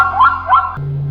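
A toy dog gives two quick electronic barks close and loud, followed by a brief low whimpering tone.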